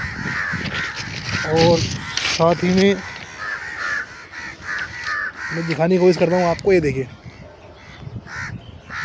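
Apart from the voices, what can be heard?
many crows cawing near a railway track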